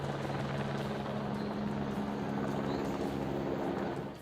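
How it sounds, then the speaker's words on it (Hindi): An army helicopter carrying radar flies over the Rishiganga river, its loud steady rotor and engine drone continuous and near throughout, with no talking. "ऋषि गंगा नदी के ऊपर रडार लेकर घूमता सेना का हेलीकॉप्टर।"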